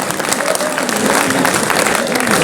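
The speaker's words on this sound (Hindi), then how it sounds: "जोर से ताली बजा के अभिनंदन करें" A crowd at a BJP gathering applauds loudly to welcome party president JP Nadda, a dense, continuous clatter of many hands, with a voice carrying over the clapping.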